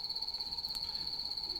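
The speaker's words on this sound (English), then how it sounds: "That's got to be a cricket." A cricket chirps steadily in a video game scene, a thin continuous high trill running unbroken at moderate level with no voices over it.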